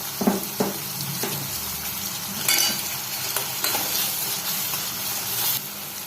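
Onions sautéing with salt in a pan for paneer butter masala, a loud continuous sizzle filling the scene with occasional spatula scrapes and taps, close and sustained throughout.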